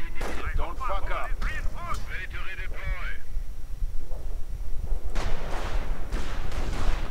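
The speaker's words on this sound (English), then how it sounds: "Auto cannon breaking the poor fellows." Autocannon fire crackles in a real-time strategy battle, arriving as dense bursts of gunfire late in the clip after an earlier stretch of voice-like radio chatter and busy battlefield noise.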